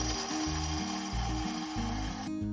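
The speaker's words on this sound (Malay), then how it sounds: "Masukkan dark chocolate coin. Tutup dan kisar selama 10 saat. Speed 8." A Thermomix TM6/TM7 at speed 8 blitzes dark chocolate coins, a loud, continuous whirring grind with rattling, chopping pulses that cuts off abruptly near the end.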